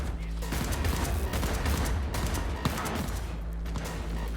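Gunfire in Cyberpunk 2077, rapid automatic bursts and sharp shots in a close combat exchange, loud and nearly continuous over heavy low rumble.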